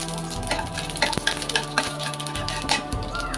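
Dried red chillies and whole spices crackle and sizzle in hot oil as a tempering for a Bengali taro stem and hilsa fish head curry, a steady close frying hiss with small pops and a few stirring clinks.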